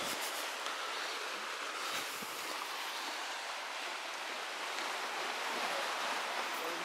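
Surf at Dwasieden beach on Rügen makes a steady, even hiss and wash with no breaks, heard alone without any talk.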